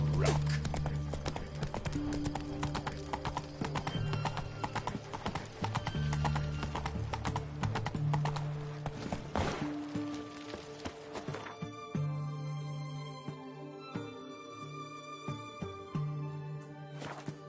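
Hooves of the horse Roach galloping in The Witcher 3 game, a fast steady clip-clop that runs on throughout, over game music, with no talk.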